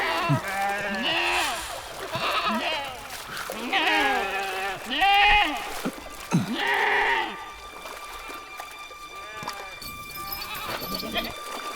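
Sheep bleating repeatedly up close in a rural flock, a series of loud wavering cries overlapping one another, with fainter bleats trailing off toward the end.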